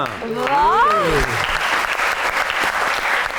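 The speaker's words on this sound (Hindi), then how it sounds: "तालियां।" Studio audience applause on an Urdu talk show, steady close clapping that carries through the whole stretch, with a voice briefly calling out over it near the start.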